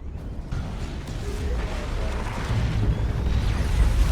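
Orbital bombardment strikes in a Dawn of War 2 multiplayer battle, a deep, loud rumbling roar of explosions that swells steadily and keeps building across the whole stretch.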